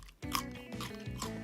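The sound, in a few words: crunch of biting and chewing a raw carrot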